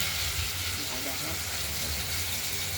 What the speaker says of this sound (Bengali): ঢাকনাটা খুলে আলুগুলোকে আরেকবার নেড়ে ছেড়ে দিলাম।